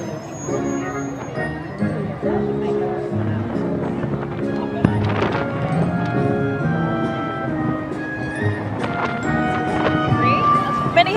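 A team of six miniature horses' hooves clip-clop in a brisk rhythm with light jingling of harness at a children's parade, heard under talking and background crowd noise.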